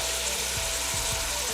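Garlic hitting a hot pan of bolognese sauce, giving a steady frying sizzle with a few soft stirring scrapes over it.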